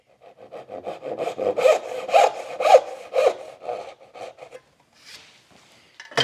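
A hand saw cuts splayed dovetails in wood with steady, close rasping strokes that rise and fall rhythmically, then fade to a few faint scrapes near the end.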